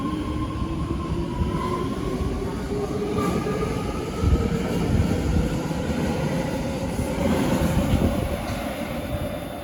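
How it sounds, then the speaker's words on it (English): BART trains run in and out of South Hayward station, a continuous loud rumble of wheels on rails with rising and falling whines as cars pass close by, with no talking. "Go up and you'll get some cool shots of trains coming in and out."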